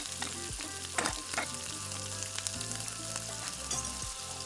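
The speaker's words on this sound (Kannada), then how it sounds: "ಇದನ್ನೆಲ್ಲ ಲೈಟಾಗಿ ಫ್ರೈ ಮಾಡ್ಕೋಬೇಕು. ಒಂದು 2 ನಿಮಿಷ ಸಾಕು, ತುಂಬ ಏನೂ ಫ್ರೈ ಮಾಡ್ಕೊಳ್ಳೋದು ಬೇಕಿಲ್ಲ." Spices for fenugreek gojju fry lightly in a pan with a soft, continuous sizzle, broken by occasional stirring scrapes, quiet and close with no talking.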